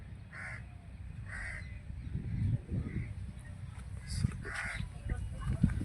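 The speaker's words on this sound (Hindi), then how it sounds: "कौवे हैं देखिए बैठे हैं।" Crows perched near a feeding spot in Vrindavan caw in several short, moderately loud bursts over a murmuring outdoor background with faint voices and bustle.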